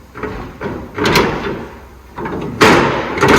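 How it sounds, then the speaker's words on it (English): A truck's tail lift flap is pushed repeatedly to make it lock in, producing a series of loud, close metallic thumps and clunks in uneven bursts, with the heaviest bang near the end. "tail lift flap. Now these are supposed to lock in."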